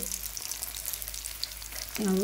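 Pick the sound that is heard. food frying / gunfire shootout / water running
food frying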